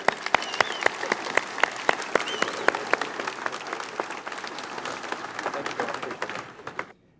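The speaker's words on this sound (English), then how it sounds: "A big round of applause for both of them," Audience applause fills an awards banquet hall, steady dense clapping with a few sharper claps standing out, sustained for several seconds before cutting off abruptly at the end.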